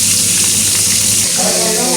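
Meatballs fry in a pan with a steady, close hiss and sizzle of hot oil lasting the whole two seconds.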